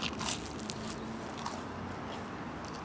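Bite into a crunchy croissant from a renowned Turin bakery, giving a short crisp crackle at the start followed by softer muffled chewing, close and fairly quiet, with no talking.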